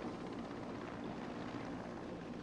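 An attacking helicopter in the Batman: Arkham City video game makes a steady, droning rotor and engine whir that holds at a constant moderate level with no voices.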